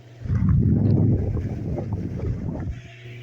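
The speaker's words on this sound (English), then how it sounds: "Although those bearings sound quite crazy, so I'm going to turn that off." A 1960s Superior Electric 9-inch fan runs fast on a cold start with noisy, dry bearings, giving a loud rough whirring rumble that fades somewhat toward the end.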